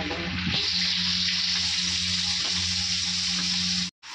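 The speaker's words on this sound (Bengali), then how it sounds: "তো যে মাছ ভাজা হচ্ছে" Fish fry in a pan of hot oil in a home kitchen, a loud, continuous close-up sizzle with a constant low hum beneath, cutting off abruptly near the end.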